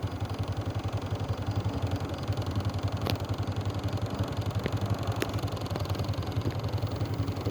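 A motorcycle engine idles steadily nearby, its low, even pulsing continuing without a break and with a few faint clicks over the top.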